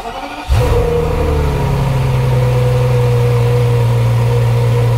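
A BMW 760 Li with restored high-pressure fuel pumps cranks and fires up with a sudden loud start, then settles into a steady, smooth close-up idle.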